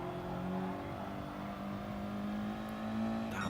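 Audi TT race cars braking hard through a chicane on a circuit, a steady droning engine note with sustained tonal harmonics, moderately distant and continuous, with a faint rise near the end.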